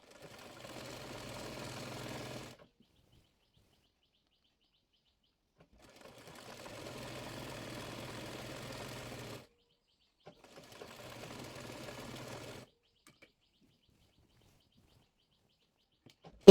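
A sewing machine stitches trouser fabric in three bursts, each a few seconds long, with pauses between them. The whirring is steady, soft and close.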